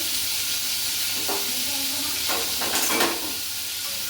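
Hog plums and a small dried chili fry in mustard oil with fenugreek, panch phoron and fennel, giving a steady, loud, close sizzle. Brief stirring clatters rise over it.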